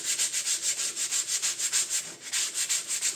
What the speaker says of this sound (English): It's ready for the sandpaper to work.